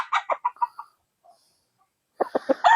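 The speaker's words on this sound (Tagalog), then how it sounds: "Ito yung SBR natin na cock mga boss." An SBR gamefowl rooster in a backyard in San Ildefonso, Bulacan gives a close run of about five quick clucks. A pause follows, then a second burst of four or five sharper clucks, with no voices.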